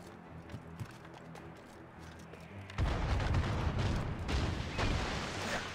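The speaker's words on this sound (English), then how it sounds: "What, we're getting shot at?" Gunfire in the Assassin's Creed Rogue video game bursts in loudly partway through, a dense rumbling barrage of shots that continues to the end over a busier game soundscape.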